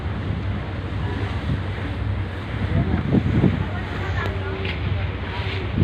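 Strong wind roars and buffets the microphone in a continuous rush, with surf-like noise underneath and voices speaking faintly through it.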